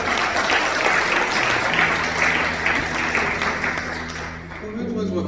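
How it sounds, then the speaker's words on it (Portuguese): A church congregation applauds at the close of a women's worship service: dense, steady clapping fills the room throughout, and a sustained low musical tone joins partway through before the applause thins slightly near the end. "Palmas que exaltam o nome de Jesus."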